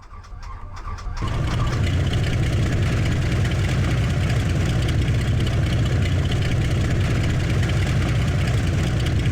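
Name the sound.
aircraft engine starting and idling in Combat Flight Simulator video game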